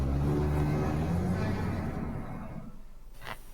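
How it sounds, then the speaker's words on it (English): A garbage truck rumbles and whirs with a steady low engine drone that fades slowly, followed by a brief hiss near the end, heard from indoors at moderate distance. "Oh, the garbage truck sound."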